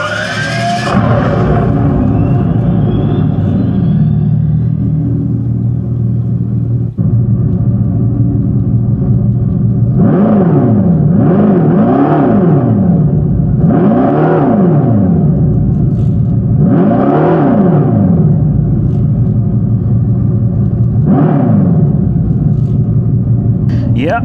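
A Dodge Charger Scat Pack EV cold starts with simulated exhaust played through speakers, giving a loud, close, rising and falling synthetic engine drone in repeated swells, with talk over it.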